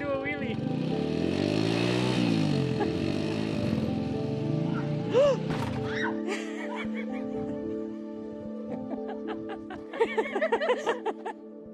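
A motorcycle engine revs up and winds down close by, its pitch swooping, followed by short bursts of laughter and chatter from people nearby.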